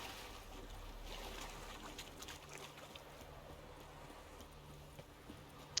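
Horse hooves clip-clopping faintly in The Witcher 3 video game, soft scattered footfalls over a quiet bed of ambient water and wind, with no voices.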